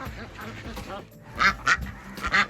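Ducks quack in a short run of nasal calls around a former duck coop on a small farm, with several bursts close together over steady talking.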